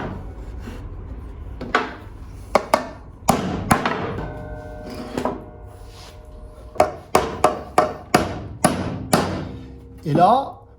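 Steel hammer driving a hinge nail into a wall: a string of sharp, ringing metallic strikes, some in quick pairs and clusters, close and loud with pauses between.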